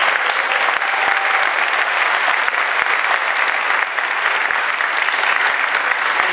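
A civic association audience applauding an outgoing police inspector at a community meeting, loud, close, continuous clapping from a full room, steady and sustained throughout.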